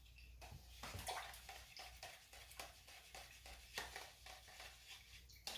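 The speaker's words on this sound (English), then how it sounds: "you can go ahead and wash your brush again." A paintbrush rinsed in a cup of water during a beach-scene acrylic painting session, faint swishing and light tapping splashes in an irregular rhythm, close and quiet, no talking.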